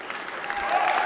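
A home crowd in a Kazan auditorium applauds a Russian athlete at the World Wushu Championships, a dense, even wash of clapping that swells slightly toward the end.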